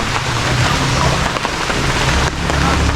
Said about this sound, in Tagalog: Grabe ang ulan mga kabungot.